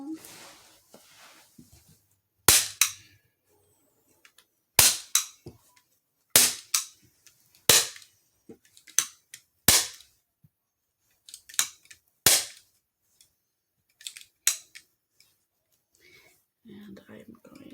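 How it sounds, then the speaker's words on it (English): A staple gun fires into a t-shirt stretched over a backing, about ten sharp snapping clacks spaced a second or two apart, some followed by softer rustling and handling noise in a quiet room. "Pretty good on this side, so we'll just staple it down."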